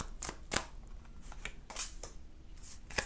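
Tarot cards are handled and pulled in quiet, crisp snaps and flicks, about a dozen separate dry clicks spaced irregularly, close and fairly faint with no voice.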